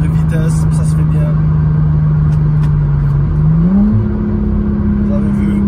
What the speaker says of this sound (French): Vous avez vu, je viens de rétrograder.